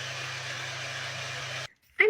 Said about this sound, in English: Hair dryer time.